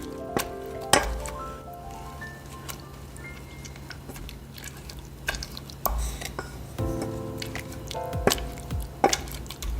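A solid smasher mashes baked apples in a bowl, making soft squishing presses and occasional metallic clinks against the dish in slow, irregular strokes, close by and with almost no talking.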